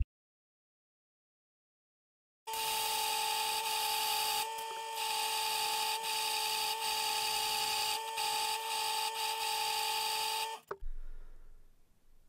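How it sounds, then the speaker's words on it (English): Bandsaw slicing through titanium knife backspacer stock: a steady, loud whining cut with a sharp tonal ring that runs for about eight seconds, dips briefly twice, then stops abruptly as the blade winds down. "I'm going to cut this on the bandsaw to a more manageable size."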